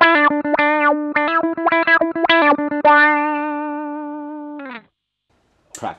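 Electric guitar through a Morley Mini Wah Volume pedal at its stock tone setting, a bright distorted riff of repeated chopped notes settling into a long sustained tone that cuts off, then a brief scrape.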